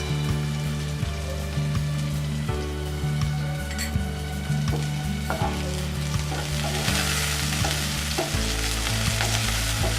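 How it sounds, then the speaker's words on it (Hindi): Chopped green chili and curry leaves fry in hot oil for a turai (ridge gourd) curry, a steady close sizzle with stirring scrapes and clinks throughout, growing a bit louder near the end, with no talking. "और इसे अच्छे से भूनेंगे।"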